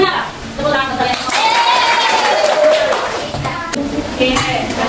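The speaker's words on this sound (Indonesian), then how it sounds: "Tepuk tangan untuk kalian" A classroom of students clapping for one another, with scattered handclaps mixed under children's voices and chanting that carry through most of the stretch.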